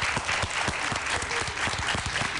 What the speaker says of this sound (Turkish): alkışlar hiç dinmesin